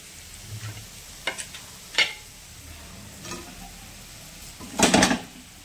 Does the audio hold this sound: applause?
no